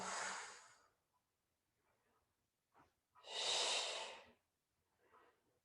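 Breath is exhaled during a core exercise: two strong, close, airy exhales about three seconds apart, each followed by softer breaths in an otherwise quiet room.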